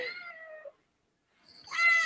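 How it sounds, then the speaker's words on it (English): A cat meows twice, a drawn-out call, a short silence, then a louder, brighter meow, close and clear with no talk over it. "And there's my cat."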